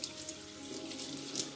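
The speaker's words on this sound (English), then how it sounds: "Then I'm going to rinse it just to start with a warm water and then gradually reduce to a cool water." Tap water runs steadily into a sink while dyed wool is rinsed, giving a close, even splashing hiss with no talking.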